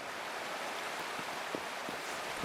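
A waterfall in the video game Wuthering Waves gives a steady, broad rushing hiss of falling water that stays even throughout, with faint low splashes beneath.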